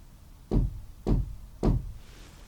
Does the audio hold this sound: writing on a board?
no